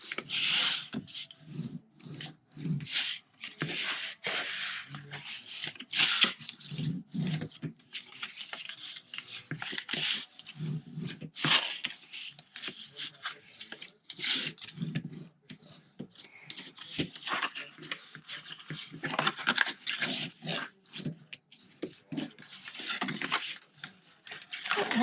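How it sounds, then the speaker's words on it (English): Cardstock scored for a Stampin' Up front flap box is burnished along its fold lines, giving close, repeated rasping rub strokes in uneven bursts with brief pauses between them. "Alright, let's burnish."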